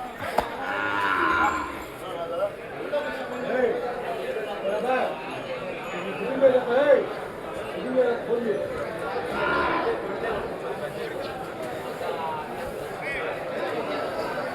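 Cows and calves low repeatedly at a Thursday cattle market in Krosuru, the moos rising from a steady background of crowd chatter and occasional clinks, while someone talks over them.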